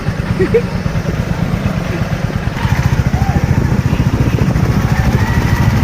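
Two motorcycles at night in Hyderabad on New Year's: an engine putters steadily at close range, its rhythmic pulsing growing stronger partway through, with faint voices underneath.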